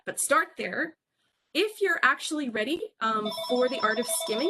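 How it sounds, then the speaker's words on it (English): A house telephone ringing in steady, repeated electronic tones beneath a person talking, entering partway through and continuing to the end. "That is a phone call here in my house."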